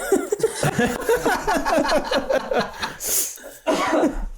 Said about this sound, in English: I literally just inhaled and coughed a hairball